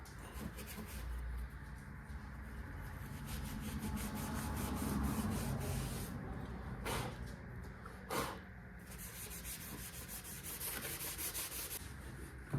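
Engine parts from a 351 modified being scuffed by hand before painting, a close, quiet rubbing and rasping that runs steadily with a few sharper scrapes.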